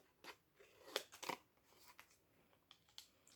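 Scissors trim gently around a cut design on plain white card, giving a few sharp crisp snips and light crunching cuts spaced irregularly, quiet and close with no talking.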